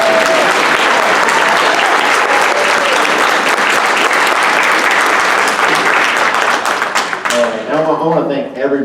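Loud, dense applause from a crowd at a Democratic executive committee election meeting, honoring a helper named Kurt; it fades near the end as a voice begins speaking.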